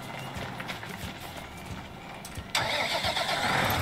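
A tractor engine cranks and catches in Farming Simulator 19, jumping abruptly into a loud, steady running rumble after a stretch of softer background noise, while someone talks beneath it.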